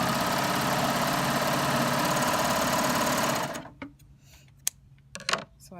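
A serger sewing machine stitching fabric runs with a loud, steady close whir for about three and a half seconds, then stops, leaving a few faint handling clicks.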